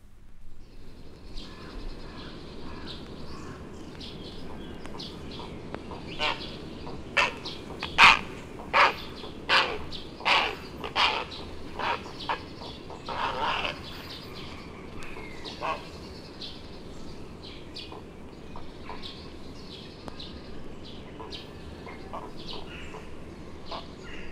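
Herons at their stick nest platforms high in woodland trees in March give a series of loud harsh croaking calls in the middle, with fainter tree sparrow chirps scattered around them.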